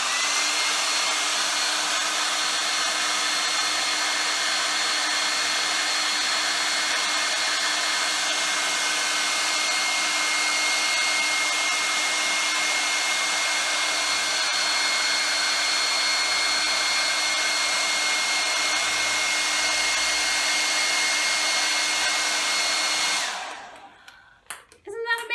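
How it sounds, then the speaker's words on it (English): A hair dryer blows with a loud, steady whirring roar for a long stretch, keeping a ping pong ball afloat, then cuts off abruptly near the end. "When I turn the hairdryer on, you're going to see something incredible."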